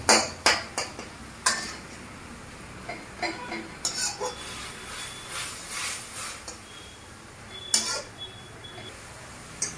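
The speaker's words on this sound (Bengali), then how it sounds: "দেখতেই পাচ্ছেন আমি খুন্তিটা দিয়ে কীভাবে শাকটাকে ঘেটে দিচ্ছি" A metal spatula scraping and knocking against a pan while red spinach is mashed, giving irregular clinks and taps with quieter scraping between them.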